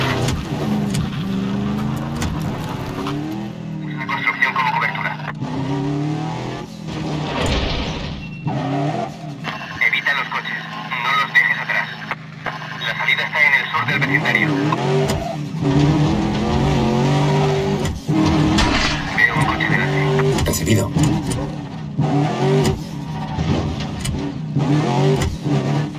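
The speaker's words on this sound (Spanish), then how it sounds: "Está persiguiendo un coche" Car chase in the Medal of Honor Warfighter video game, with engines revving, tires squealing and skidding loudly throughout amid gunfire-like bursts, while people talk over the action.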